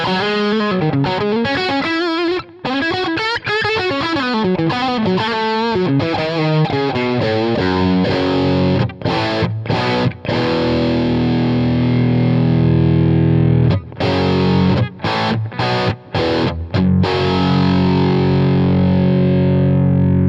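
Electric guitar played through a Jackson Audio Prism pedal on its high gain setting, heavily distorted riffs with fast chugging notes and sliding bends, then sustained crunchy chords ringing out, loud throughout.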